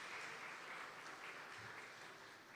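An audience at a distinguished lecture event applauds their professor, rector, with sustained, even clapping from many hands that fades slightly toward the end and stays faint overall.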